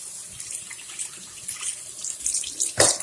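Fresh ginger roots are washed under running tap water, a continuous splashing stream with small shifts and one louder gush near the end, close by and alone.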